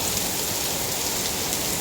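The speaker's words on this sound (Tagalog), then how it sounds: "Tignan nyo yung ulan" Steady rain falls in Singapore, a dense even hiss with no pauses and no voices.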